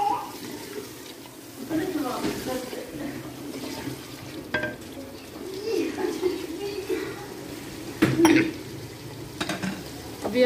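Masala with whole green chillies sizzles and is stirred in a pan for methi palak, a steady crackling fry with occasional scraping, under a person talking.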